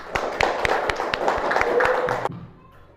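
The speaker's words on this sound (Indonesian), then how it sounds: "kita beri tepuk tangan untuk kelompok 2" A classroom claps for a student group at the end of a lesson, a burst of sharp, fairly close hand claps in an uneven rhythm that stops abruptly, leaving a quiet room.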